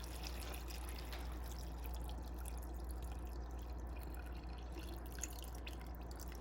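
Water poured into a rock tumbler barrel over river rocks with 500-grit prepolish, a steady trickling and dripping under a low constant hum, with no talking.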